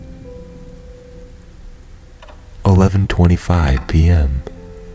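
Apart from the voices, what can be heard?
rain falling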